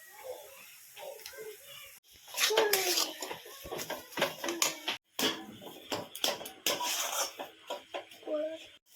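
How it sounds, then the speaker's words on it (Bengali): A spoon or spatula scrapes and clatters against a pan as a soybean cutlet mixture is stirred, in irregular bursts of metallic clinks with voices faintly in the background. "এইভাবে কিছুক্ষণ আমি নাড়াচাড়া করে নেব"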